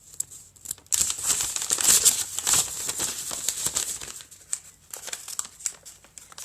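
Paper being folded into an origami petal fold, close soft crinkling and crackling as sheets are creased and squashed, irregular rustling bursts, faint and quiet.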